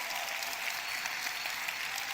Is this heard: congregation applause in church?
yes